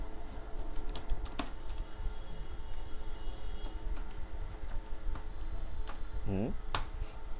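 Rapid clicks of typing on a computer keyboard run steadily for several seconds, close and clear, with a voice speaking quietly underneath.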